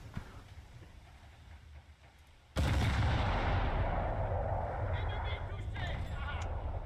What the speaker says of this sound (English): Okay, torpedo detonated.